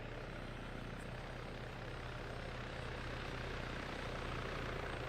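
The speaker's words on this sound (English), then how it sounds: "Why do they have to fly the helicopter into the hangar?" In the military game Arma 3, a helicopter's rotor and engine drone steadily with a low, thumping hum, fairly quiet and unbroken, with no voices over it.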